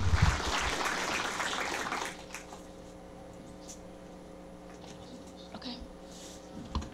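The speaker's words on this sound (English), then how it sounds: "Let's give her a round of applause." An audience claps to welcome FCC Commissioner Mignon Clyburn at a Silicon Harlem event in New York City, with moderate applause for about two seconds that then fades into quiet room tone with faint noises.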